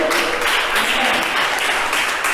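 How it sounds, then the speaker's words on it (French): Church congregation applauding and cheering in praise, a dense, steady wash of clapping filling the room without a break, loud and close. "Levez-vous, mais acclamez le Seigneur. Acclamez Jésus."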